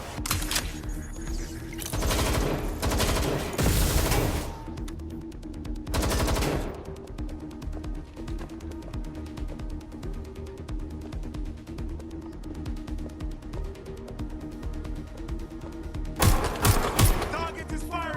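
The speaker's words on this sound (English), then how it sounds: "Shots fired!" Bursts of automatic gunfire crackle in Watch Dogs Legion gameplay, loud rapid volleys near the start, middle and end with sparser shots between, under game music and voices calling out.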